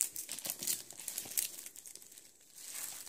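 Wrapping paper crinkles and tears in close, busy bursts as a gift is unwrapped, the crisp rustling continuing steadily throughout with no voices.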